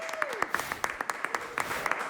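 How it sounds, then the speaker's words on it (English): Studio applause rings out for guest Jill Scott on a radio show, a brief burst of scattered, crisp claps at moderate volume, with a faint tone sweeping down at the start. "Round of applause for Jill Scott"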